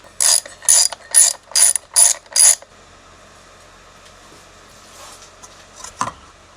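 A ratchet wrench clicks rapidly in six quick bursts while loosening the filter cover on a double drum roller, close and loud, followed by quiet handling and one short clunk.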